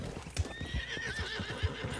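A horse ridden in Red Dead Redemption 2 Online gallops with steady rhythmic hoofbeats, and a drawn-out whinny rises and wavers over them partway through.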